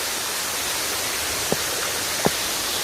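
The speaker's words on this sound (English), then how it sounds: "So there's the waterfalls here." Karekare waterfalls in New Zealand's Waitakere Ranges give a steady broadband rush of falling water from a moderate distance, with two brief soft knocks near the end and no talking.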